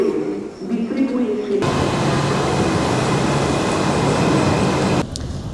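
Steady, loud rumbling rail noise from inside a moving train in Italy heading toward Milan fills the clip, with muffled voices briefly at the start and end.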